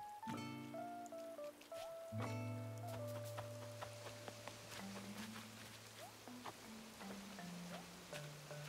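Steady patter of rain falling in the video game Animal Crossing, a soft continuous hiss that runs the whole time beneath gentle background music, with no talking.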